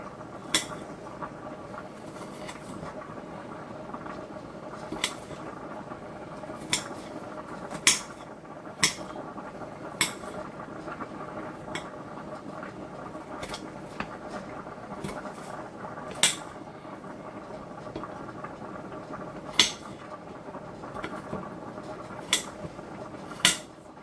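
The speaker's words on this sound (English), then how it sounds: "And we finish chopping this here up." Onions being chopped on a cutting board for Skyline-style Cincinnati chili, sharp knife taps landing irregularly every second or two over a steady kitchen background hum.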